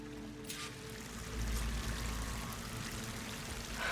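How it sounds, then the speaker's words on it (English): Waterfall in the video game Horizon Forbidden West: a soft, continuous rushing and pouring of water, fairly faint and steady, swelling slightly in the middle, with no talking. "That waterfall must be coming from somewhere."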